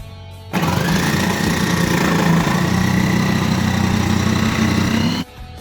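An electric blender grinds food in one loud, steady whir. The motor kicks in abruptly, runs for about five seconds, then cuts off, with no talking.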